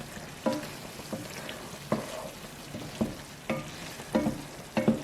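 Peppers and meatballs frying in a pan, a faint steady sizzle broken by repeated scraping stirs at irregular intervals, close up with no talking.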